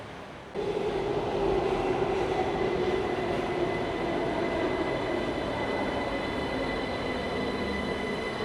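An LRT Line 3 light rail train in Malaysia rolls into a station with a steady rumble and faint wheel hiss, sustained and close, building abruptly after a brief quieter start.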